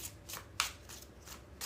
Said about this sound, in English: We need 3 more shuffles, y'all.